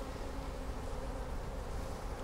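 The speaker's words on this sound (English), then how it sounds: "Look at all the bees on there." Dense, continuous buzzing of many bees crawling on a frame lifted from a beehive while the hive is being split, heard close up and steady with no talking.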